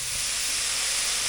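Vinegar hits a hot pan of chicken with forest-mushroom sauce, giving a dense, bright, continuous steam hiss at close range with no break.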